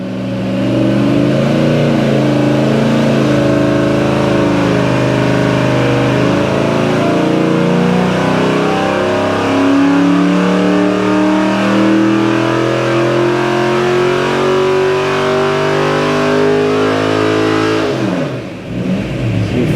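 A rowdy small block Chevy V8 from a 1967 Camaro revs hard on a dyno, climbing steadily in pitch through one long loud pull before dropping off near the end, with no talk over it.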